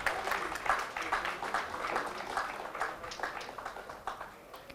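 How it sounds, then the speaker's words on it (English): An audience at a microfinance conference applauds as a bank executive is called to the stage, a continuous patter of many hands clapping heard from a distance, fading slightly toward the end. "Can you all please give a big round of applause?"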